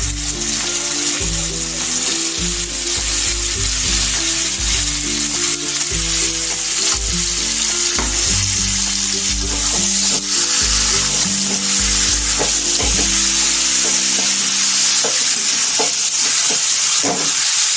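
About 700 to 800 grams of washed chicken frying in a pan for a Kerala-style chicken curry makes a loud, continuous close sizzle, with a low steady hum running underneath.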